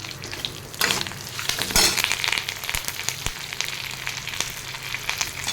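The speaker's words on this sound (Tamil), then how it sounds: "இப்போ கருவேப்பிலையை போட்டு வதக்கிக்கலாம்." Curry leaves and dried chillies sautéing in hot oil, a lively crackling sizzle with bursts of spatter as they go in, then steady frying and stirring.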